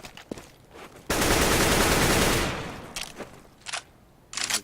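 An AK-47 fires a sustained, loud automatic burst of over a second in Counter-Strike: Global Offensive, followed by a few short clicks and a couple of brief noisy bursts.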